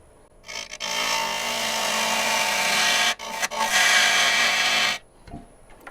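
A wood gouge cuts into a live edge burl, making a loud, steady scraping roar that runs for several seconds, breaks off briefly, then resumes before stopping.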